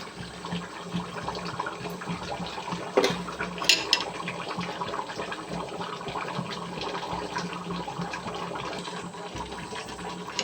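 Chicken curry bubbles and simmers steadily in a pan, a continuous soft gurgling hiss broken by a couple of brief utensil knocks.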